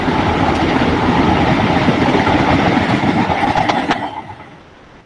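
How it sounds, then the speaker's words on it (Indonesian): A train passes close by with a loud, steady rumble and rolling rail noise that fades away toward the end. "Keretanya terdengar ya?"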